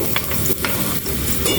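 Onions sauté in a hot pan with a loud, continuous sizzle, punctuated by quick stirring scrapes close by.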